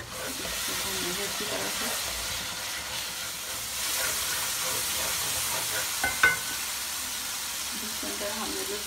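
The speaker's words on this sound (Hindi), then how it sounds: "और ये सारे जो हमारे खड़े मसाले ये भी इसमें डाल देंगे हम लोग।" Whole spices tossed into a hot pan with ginger-garlic paste for chicken tikka biryani give a soft, steady sizzle and hiss. A spoon briefly clinks near the end, and someone speaks quietly over it.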